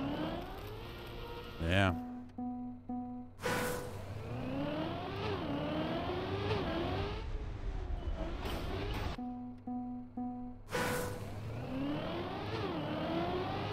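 A race car engine at full throttle in the racing game Trackmania, with repeated rising revs and gear-shift sweeps. A voice briefly speaks over it.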